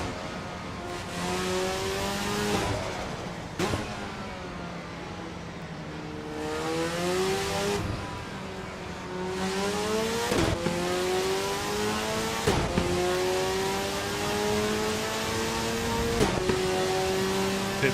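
Race car engine in Le Mans Ultimate at Spa, revving and climbing through gears in repeated rising sweeps with sharp shift breaks, loud and close throughout, no talk.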